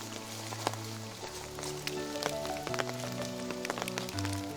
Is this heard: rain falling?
yes